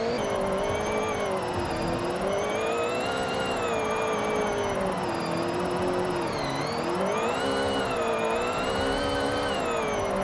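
Engine of a 1997 Honda Civic Type R drift car in a video game, a steady revving drone that rises and falls in pitch through the whole stretch, loud and close with no talk over it.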